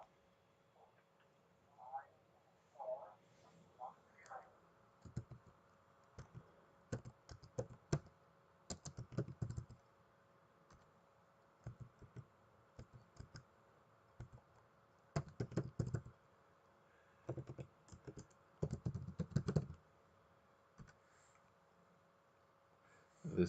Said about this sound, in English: type in there your information and make sure there are no spelling mistakes